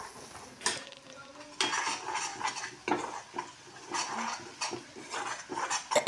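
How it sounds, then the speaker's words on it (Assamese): Spice masala with Kashmiri red chili powder being stirred and fried in a pan for paneer curry, with repeated scraping utensil strokes over a steady close sizzle. "আৰু এতিয়া ধুনীয়াকৈ মছলাখিনি ভাজি ল'ম"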